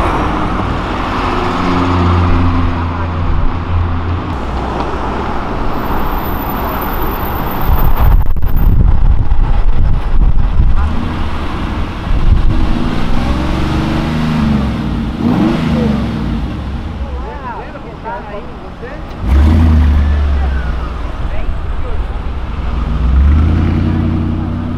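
A Volkswagen Jetta TSI revving and accelerating on an avenue, loud close engine surges rising and falling in several bursts with wind buffeting the microphone and people talking over it.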